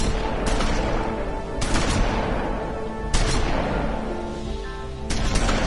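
Gunfire in The Wolf Among Us: heavy sharp shots crack out roughly every second and a half against a loud, dense background of noise, close and forceful.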